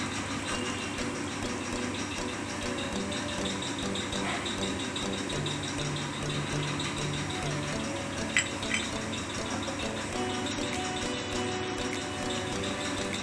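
Fish curry with masala vada simmering in a pan, a steady low bubbling and rattling boil that runs continuously and evenly at moderate level, with no voices over it.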